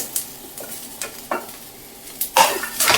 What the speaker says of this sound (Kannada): ಇವಾಗ ಇದಕ್ಕೆ ನಾನು ಈರುಳ್ಳಿ ದಪ್ಪದಾಗಿ ಎತ್ಕೊಂಡಿದ್ನಲ್ಲ ಅದನ್ನು ಸೇರಿಸಿ ಉರಿತಾ ಇದ್ದೀನಿ